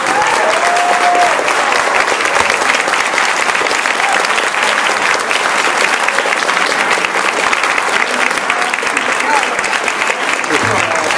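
Loud, sustained clapping from a debate audience after a candidate's closing statement, many hands at a steady level, with some voices underneath.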